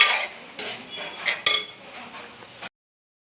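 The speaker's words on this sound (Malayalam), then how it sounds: "കായപ്പൊടിയൊക്കെ ഇട്ടതിന് ശേഷം നന്നായിട്ട് ഇളക്കി യോജിപ്പിക്കണം" A mango pickle mix with asafoetida powder being stirred in a metal vessel, a few brisk scraping and clinking strokes of a spoon, close and fairly loud, then a sudden silence.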